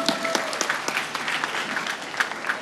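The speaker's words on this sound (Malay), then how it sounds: "Tepukan untuk USM tuan-tuan dan puan-puan." An audience at a public gathering in Perai, Penang claps for USM, a dense burst of applause with scattered sharper hand claps. It holds steady for a couple of seconds at close range, with no voice over it.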